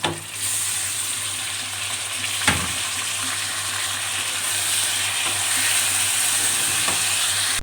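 Mutton pieces hitting a hot pan of browned garlic-ginger paste, a steady loud sizzle with frying crackle and one sharp clatter early on, no talk.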